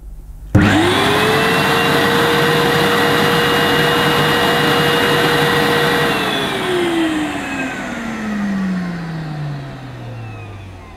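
A Vax Luna 3 in 1 vacuum cleaner with an up to 1300 watt motor, running loud and close with a steady high whine that holds for several seconds, then drops in pitch as the motor winds down.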